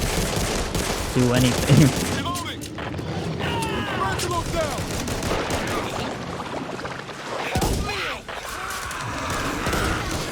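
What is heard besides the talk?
sniper rifle shots in the video game Back 4 Blood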